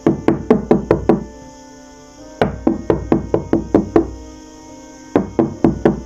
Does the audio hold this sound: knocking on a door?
yes